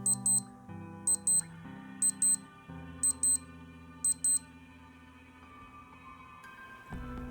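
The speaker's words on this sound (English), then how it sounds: "if we press and hold the bottom right, we do an alarm test" A Casio A500W digital watch alarm test gives five pairs of high, thin double beeps at a steady pace, close by, over soft background music.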